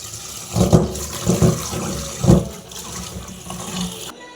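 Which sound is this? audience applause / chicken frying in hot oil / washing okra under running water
washing okra under running water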